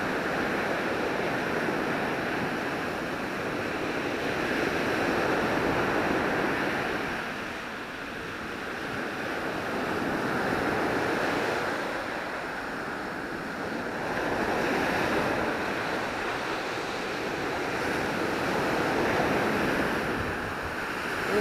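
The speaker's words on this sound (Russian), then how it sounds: "Это волны, а?" Sea waves break on a beach in slow, rolling surges, each wash of surf rising and fading every few seconds at moderate volume, with some wind noise mixed in and no voices.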